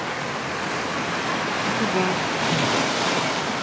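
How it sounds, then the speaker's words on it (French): Rough sea surf at Alicante roars in a steady, close wash with wind buffeting the microphone, and a brief spoken remark is heard over the waves. "Aujourd'hui, la mer, elle est un petit peu agitée."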